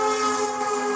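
A passing train sounds a sustained, steady whistle or horn tone, loud and close, holding one chord without a break.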